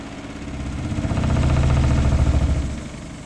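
A washing machine spins down after being switched off. Its drum makes a close, vibrating mechanical hum with a rapid rhythmic throb that swells and then begins to fade.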